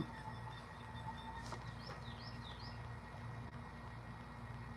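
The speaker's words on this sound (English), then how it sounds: "Y'all heard that bird?" A bird gives a few faint, brief chirps over a steady low background hum, with no talking.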